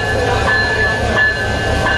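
Passenger train running on the Dhaka to Cox's Bazar line in Bangladesh, with a steady loud rumble and a sustained high whine from the rolling wagons, heard close up without any talk.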